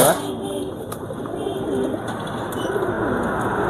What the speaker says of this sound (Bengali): এগুলো সাদা স্যাচুটা কবুতর, আমাদের রাজশাহী অরিজিনাল কবুতর, রাজশাহী গিরিবাজ দেখতে পাচ্ছেন